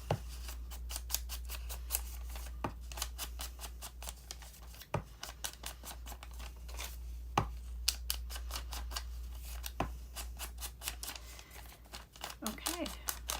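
Scissors snip steadily around folded paper for a butterfly craft, a quick run of sharp close cuts with light paper rustling and crinkling between them and no one speaking.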